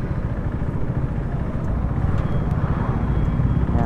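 A 400cc motorcycle cruising on an expressway, a loud constant engine drone blended with heavy wind rumble, steady and close throughout with no speech.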